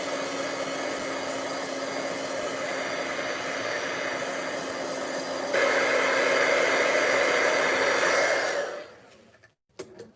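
A heat tool blows hot air to dry a finished craft project. It gives a loud, steady whirring rush that brightens partway through, then cuts off and winds down, followed by a few light handling knocks.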